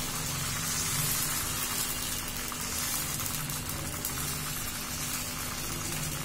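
Ghavane rice batter sizzles steadily in a hot pan, a soft, even frying hiss with faint bubbling that continues unbroken at low volume, with no talking over it.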